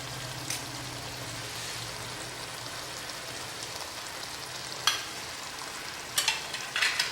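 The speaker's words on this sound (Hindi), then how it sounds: "इस मीट को डाल के अच्छे से हिला देंगे।" Mutton sizzling in ghee and masala in a pan, a steady soft frying hiss throughout with occasional sharp crackles and scrapes of stirring near the end, no talking.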